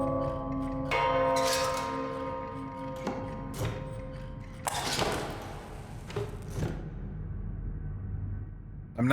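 Bells ringing in the video game DarQ, a series of resonant struck tones with long decaying rings and some thuds and taps in between, heard over a low ambient hum.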